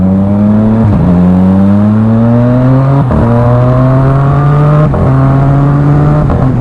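A Yamaha MT-09 inline three-cylinder motorcycle engine revs hard in repeated rising pulls, dropping briefly between each surge, with a raspy, high-pitched, racing-car-like tone.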